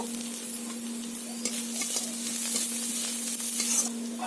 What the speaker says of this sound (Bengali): পেঁয়াজ আমার প্রায় ভাজা ভাজা হয়ে গেছে এতে দিয়ে দেব চা চামচের এক চামচ রসুন বেটে রেখেছিলাম সেটা দিয়ে দেব